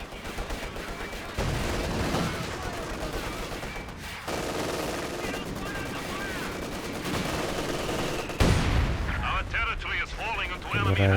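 Heavy mortar and artillery fire in the real-time strategy game Company of Heroes 2, dense layered booms and gunfire rumbling continuously beneath fast, steady commentary.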